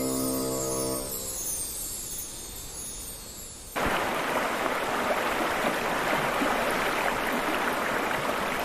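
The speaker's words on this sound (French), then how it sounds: "L'eau de la cascade des Marmores entame son voyage dans les montagnes de la chaîne des Apennins." Water of the Cascata delle Marmore waterfall in the Apennine mountains rushing as a dense, steady roar that bursts in loudly partway through after a quieter opening with music, then continues unbroken.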